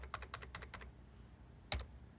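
A computer keyboard being typed on quietly: a quick run of light, rapid key clicks, a pause, then a final sharper double tap, faint and close with no talk over it.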